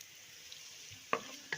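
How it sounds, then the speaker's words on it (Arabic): Onion frying in a pan until browned for a home-cooked Egyptian lunch, with a faint steady sizzle broken by two sharp stirring clinks, close and without speech. "بنحمر البصلاية قوي قوي قوي لحد ما تغمق"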